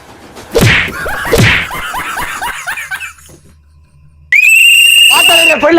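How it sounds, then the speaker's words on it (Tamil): Two whip-like slaps are followed by chattering laughter-like sounds. After a pause comes a sharp, loud, sustained whistle blast lasting over a second, with rising chatter at the end. "அவங்க காதிலே விசில ஊதி அனுப்புங்க"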